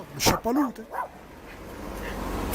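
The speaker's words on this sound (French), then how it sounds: "Qu'il est énervé pour rien, le chien." A dog gives a few short, agitated barks and yips close by, followed by low background noise, with a person speaking over the start.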